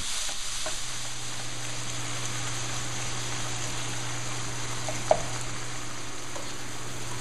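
Ground beef sizzles steadily in a hot pan, a constant bright hiss with a faint low hum beneath it and one brief clink partway through, close up and uninterrupted.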